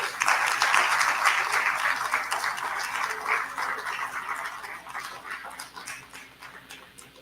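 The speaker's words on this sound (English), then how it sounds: "Please give a round of applause for our Mistress of Ceremonies, Nikki B." Audience applause fills a writers conference hall, a dense burst of clapping that starts loud and steadily thins and fades over about seven seconds, with no voices over it.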